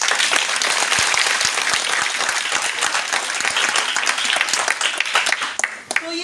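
An audience at a DXN gathering in a Patna office claps loudly in dense, sustained applause that tapers off near the end.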